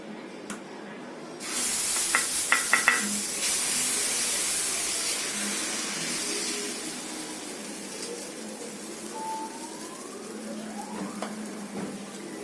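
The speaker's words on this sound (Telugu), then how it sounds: "పెనం వేడెక్కిందండి. ఇప్పుడు మనం దోశ వేద్దాం." Dosa batter poured and spread on a hot pan over a low flame, a loud steady sizzling hiss that starts abruptly and continues throughout, with faint scraping and small clinks close by.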